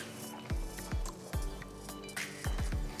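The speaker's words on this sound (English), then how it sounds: "So I'm just going to mash the vegetables." Cooked vegetables for pav bhaji mashed with a masher in a pan, a series of soft, squelching thuds in an irregular rhythm, close and moderately loud, without speech.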